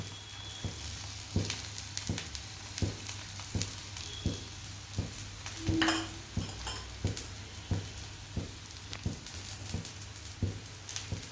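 Pesarattu batter frying on a hot pan topped with onions: a steady close sizzle runs throughout, broken by regular soft clicks and taps of a utensil against the pan.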